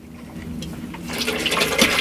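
Water from a garden hose pours into a 300-gallon rainwater collection tank inside a greenhouse, a steady rushing splash that swells louder midway and keeps going without talk.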